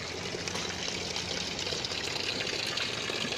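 Water from the Narzan mineral spring, an iron-rich source in Kabardino-Balkaria, runs and trickles steadily up close with a constant splashing wash, no voices over it.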